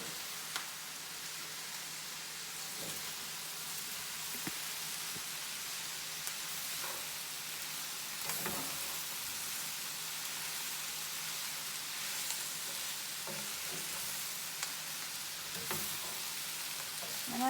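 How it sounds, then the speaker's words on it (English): Cabbage and mixed vegetables stir-fried with sesame oil crackle and sizzle steadily in a pan, with occasional scraping clicks from stirring, close and fairly quiet. "We'll give that another stir and get that cabbage incorporated in there."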